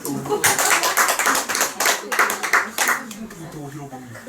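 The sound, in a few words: audience clapping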